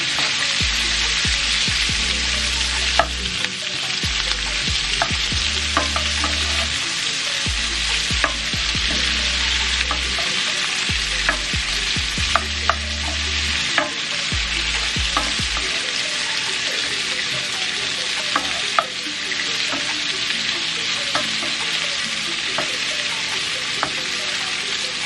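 Vegetables and onions sizzle steadily in a pan, with a continuous loud frying hiss and occasional stirring clatter and scrapes throughout, no voices.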